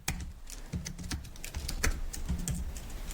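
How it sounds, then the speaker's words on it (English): Fast clattering keystrokes on a computer keyboard while typing code, a steady close burst of clicks with a few louder key hits, no voices. "I'm quickly gonna type Dani here."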